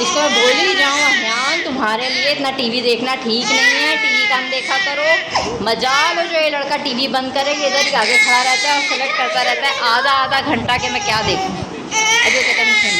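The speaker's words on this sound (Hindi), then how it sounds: "मेरा बच्चा रो रहा है, बाय बाय।" A small child cries and whimpers at home, and the crying is partly masked by someone talking continuously over it.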